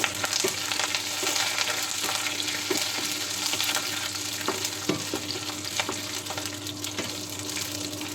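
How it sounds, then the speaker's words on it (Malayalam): Garlic, slit green chillies and curry leaves fry in oil in a pan for egg curry, with a constant close sizzle and frequent sharp pops and clicks from stirring, with no talking. "നമ്മൾ കീറി വെച്ചിരിക്കുന്ന പച്ചമുളക് ഇട്ടിട്ട് അതിന് ഇതിലോട്ട് കറിവേപ്പില,"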